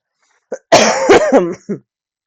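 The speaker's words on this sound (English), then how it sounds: "I'm so sorry for the coughing" A close, loud fit of coughing: a short hack, a harsh rasping burst, then a smaller cough at the end, with silence around it.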